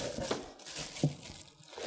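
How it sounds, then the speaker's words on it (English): A white, clear plastic bag crinkles as it is pulled off a dB Technologies Opera 15 two-way active speaker during unboxing, with quiet, intermittent rustles and a couple of sharper crackles up close. "which is covered with some white, clear plastic bag."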